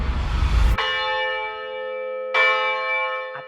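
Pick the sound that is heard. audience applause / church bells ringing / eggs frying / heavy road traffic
church bells ringing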